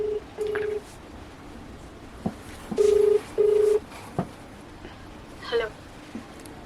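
Push-button telephone keypad tones placing a call, a handful of distinct beeps in an uneven sequence, clear and close with quiet gaps between them.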